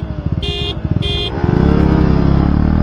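KTM Duke 250 BS6 and Yamaha R15 V3 BS6 motorcycles accelerating side by side in a road drag race, engines droning loud and close, rising to a sustained steady roar after two short high beeps early on.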